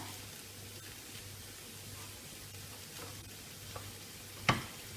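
Beef faux-filet frying in a pan gives a faint, steady sizzle with soft stirring, ending in one brief clatter of utensil on pan.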